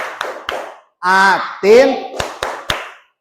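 A class plays a rhythmic 'tepuk atin' clapping game in a classroom: sharp, close group claps land in a quick pattern, broken by a chanted voice in the middle.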